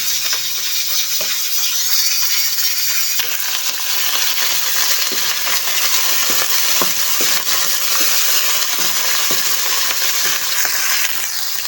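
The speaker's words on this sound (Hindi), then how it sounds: "अब हम इसमें चिकन डालेंगे और फ्राई करेंगे।" Chicken and onions fry in a pan with a steady, loud sizzling hiss, with occasional stirring scrapes and crackles coming through close up.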